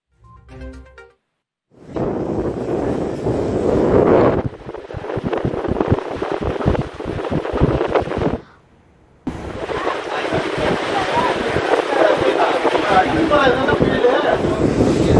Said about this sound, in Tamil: பாப்பா கோயில், புத்தூர் உள்ளிட்ட இடங்களில் சூறை காற்று வீசுகிறது.